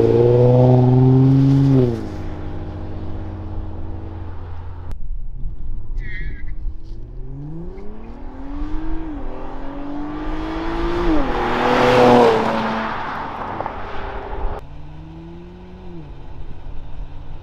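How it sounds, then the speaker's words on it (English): An Infiniti Q60 revs hard as the driver tries a burnout, with several loud engine rises and falls, a brief lull, then a strong climbing rev and roar before dropping back to idle. "I'm finna try to do a burnout."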